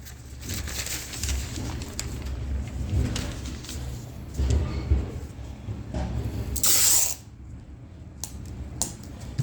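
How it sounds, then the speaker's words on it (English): Bursts of hissing clear coat spray sound on and off over a background murmur inside a garage, with one loud, sharp spray burst near the end, refinishing a 2011 Lotus Evora headlight. "I'm spraying inside the garage, so not too worried about wind or dust."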